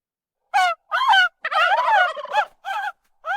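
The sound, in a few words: turkeys gobbling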